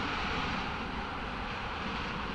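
Steady broadband roar of a jet airliner in flight, heard from inside the cabin as a constant, even drone with no talk.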